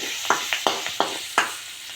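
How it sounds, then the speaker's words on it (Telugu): Dried red chillies, cumin seeds and curry leaves with turmeric crackling in hot oil for a tempering, a run of sharp spitting pops over a soft sizzle, close and fairly loud, with no voices. "ఈ ఎండుమిర్చి, జీలకర్ర 2 నూనెలో వేగిన తర్వాత కొద్దిగా కరివేపాకు, పసుపు ఈ పోపులో వేసుకోవాలి"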